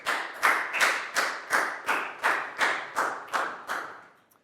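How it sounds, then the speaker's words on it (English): A Year 4 school class claps in a steady rhythm, about ten even beats of unison clapping, fairly close and loud, with no talking. "High five and a big round of applause for Pat, please, guys."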